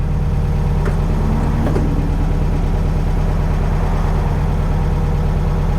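Air-cooled engine of a 1964 VW Karmann Ghia idling steadily, a loud close continuous rumble with an even low throb and a couple of faint light knocks early on.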